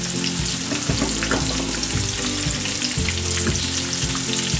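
Habanero chicken wings fry in hot oil, giving a loud, dense, continuous sizzle and crackle that holds steady throughout with no voices.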